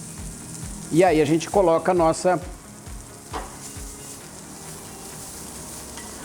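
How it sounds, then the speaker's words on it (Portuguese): Onion frying in a frying pan, a steady close sizzle that runs throughout under someone briefly speaking near the start. "Aqui a gente vai deixar a nossa cebola dar uma dourada, acompanhando a base da frigideira."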